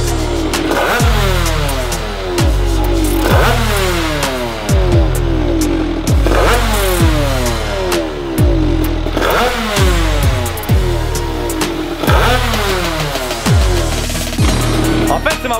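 A tuned 50cc motorcycle engine revs hard on a dyno-style run, loud and close, climbing repeatedly through rising pitch sweeps with a crackling two-stroke rasp, each pull dropping back before climbing again.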